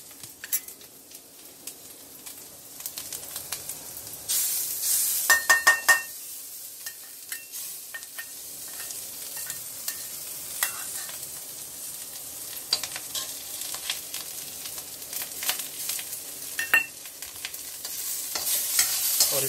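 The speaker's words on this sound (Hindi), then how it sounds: "अब हम इसमें अदरक और लहसुन का पेस्ट डालेंगे।" Onion frying with ginger-garlic paste for a home tomato soup, a steady sizzle under repeated scraping stirs of a spoon against the pan, with a few louder metallic clatters.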